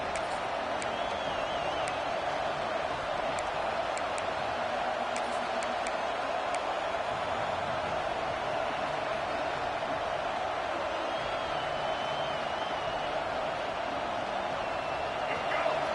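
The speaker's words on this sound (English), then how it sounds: "It's early, but this crowd is fired up. Listen to this noise here." Steady, dense crowd roar from a college football video game stadium fills the whole stretch at an even, loud level, a constant wash of cheering with no breaks.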